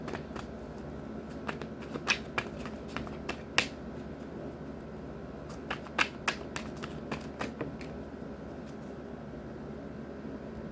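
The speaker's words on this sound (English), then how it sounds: "I am going to pull an extra card for this Two of Cups though" Tarot cards are shuffled quietly at close range, giving a series of soft, crisp snaps and riffles spread irregularly across a faint room hum.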